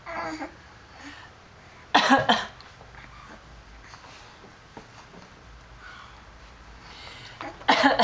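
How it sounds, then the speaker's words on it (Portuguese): A baby coughs in sharp, forceful bursts, with one early bout and a louder one near the end, close to the microphone over quiet room noise. "Tosse."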